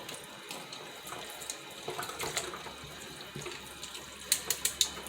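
Kitchen faucet running steadily as a turkey is rinsed, a continuous close splashing stream with water sloshing and a few sharper drips and clinks near the end.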